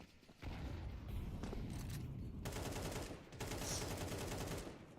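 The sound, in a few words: USP pistol gunfire in Counter-Strike video game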